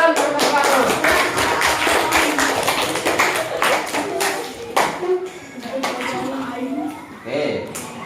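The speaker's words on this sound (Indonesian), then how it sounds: "Wih, kita kasih tepuk tangan, kasih tepuk tangan." A classroom of students clapping together for a classmate, a dense run of hand claps that rises and dips across the whole stretch, with some voices mixed in.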